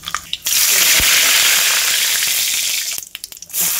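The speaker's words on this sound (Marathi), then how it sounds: "कढईमध्ये तेल घेतलेलं आहे, त्यामध्ये मोहरी टाकून घेऊया" Mustard seeds sizzle and crackle loudly in hot oil in a kadai, a steady dense frying hiss, close and continuous, with a few sharper pops toward the end.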